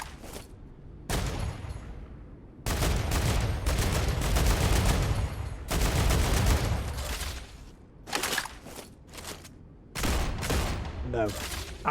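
Repeated bursts of video game gunfire aimed at vines in a cave ring out loud and close, long volleys broken by short pauses, with a voice between them.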